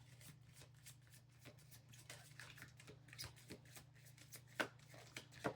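A deck of oracle cards is shuffled close by, quiet riffling and patting bursts in an irregular rhythm over a low steady hum, with no talking.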